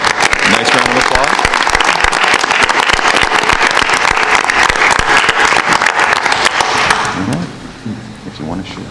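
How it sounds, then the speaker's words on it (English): Loud, close round of clapping from the audience at a school district monthly meeting, holding steady for about seven seconds before dying down as voices resume. "Nice round of applause."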